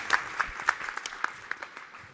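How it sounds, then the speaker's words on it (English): Warm applause from a conference audience for a panel of speakers at an international energy-efficiency event, a dense burst of clapping that peaks early and then thins out and fades over about two seconds. "I just would like to ask you to have a very, very warm applause to our amazing panelists."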